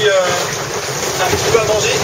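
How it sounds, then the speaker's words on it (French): Sailboat at sea in the Transat 650 solo race, pounding through rough, violent waves; a steady, loud rush of water and wind noise fills the whole stretch without letup. "le bateau passe beaucoup moins bien dans les vagues"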